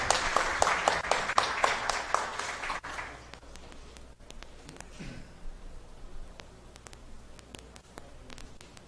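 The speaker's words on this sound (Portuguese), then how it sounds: "Gostaria de uma salva de palmas para ela." Audience applause fills a council chamber during an ordinary session, a dense burst of many hands clapping for about three seconds before it fades away into quiet room noise with scattered faint taps.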